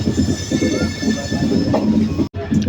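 A local train between Nautanwa and Gorakhpur, India, rolls along the rails with loud, continuous rumbling, rattling and faint wheel squeal, then a sharp, brief dropout before the clatter resumes.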